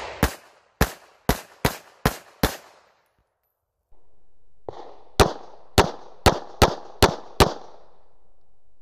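A Diamondback DB9 9mm pistol fires two close, loud strings of six rapid, evenly spaced shots, separated by a short quiet pause.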